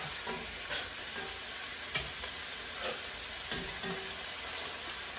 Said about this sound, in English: I'm going to throw my chicken breast in there.